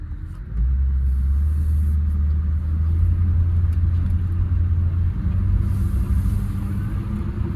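A 1965 Ford Mustang, back on the road after sitting 33 years with a locked-up engine, cruises along with a steady, loud low engine rumble and road drone that holds constant from start to finish.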